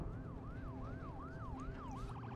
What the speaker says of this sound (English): There's an ambulance.